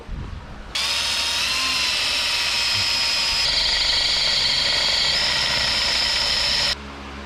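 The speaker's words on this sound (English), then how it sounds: "now let's drill some holes" A power drill bores holes into a gas tank in a home workshop, running as a steady loud whine for about six seconds with a slight shift in pitch midway, then it stops.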